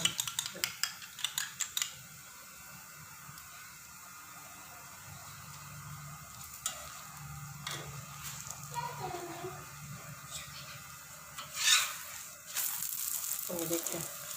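An egg with black pepper and salt is mixed in a bowl for a rice paratha: a burst of quick clinking strokes, then quieter, scattered scraping and stirring.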